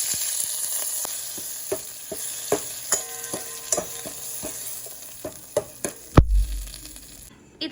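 Mustard seeds, green and dry chillies, asafoetida and curry leaves crackle in hot oil in a home kitchen, a steady close sizzle with scattered sharp pops and spatters, one louder burst near the end.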